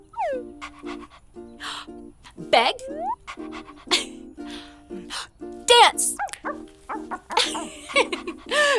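A dog pants and gives short barks and yips during a training session, close by and uneven in rhythm, while a person speaks commands over the dog's sounds.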